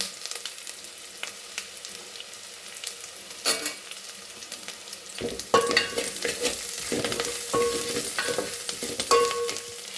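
Tempering spices frying in a pan while khichdi is being made, a steady close sizzle with scattered spoon scrapes and clicks as they are stirred, the frying growing louder and denser in the second half.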